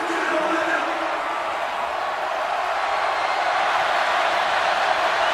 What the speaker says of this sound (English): You can hear this crowd right back in this game.